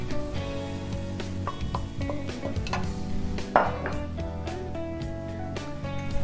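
Ginger, chilli and tomatoes tipped into a pot of softened vegetables for lentil soup, with clattering pot and utensil knocks, stirring and a soft sizzle, one sharper clank midway, close and fairly loud.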